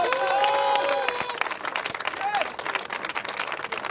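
Church congregation applauding the Lord, sustained crowd clapping that carries under a voice, with a brief tonal sung or shouted note at the start and some scattered cheering.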